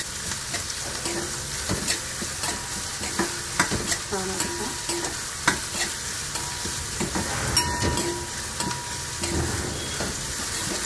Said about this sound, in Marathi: कांदा परतला, जरा लाल थोडासा झाला ना